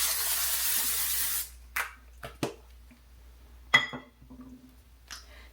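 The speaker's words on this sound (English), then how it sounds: "we're gonna also top it off with some spray" A broad hiss of aerosol hair or body spray opens the clip, running steadily for about a second and a half before cutting off, followed by a few short handling taps and clicks in a quiet room.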